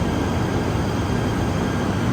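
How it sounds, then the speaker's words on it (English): A train bound for Batu Caves arrives at a station in Kuala Lumpur, producing a loud, continuous broadband rumble and roar that holds steady with no pauses and no voices. "And there's my train to Batu Caves."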